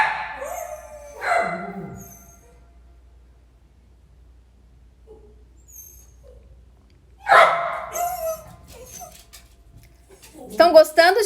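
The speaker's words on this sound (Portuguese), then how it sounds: "Desculpa os cachorros." Dogs whimper and yip in short bursts at the start, fall quiet, then return with louder barks and whines near the end. Someone speaks live in Portuguese over them in a quiet room.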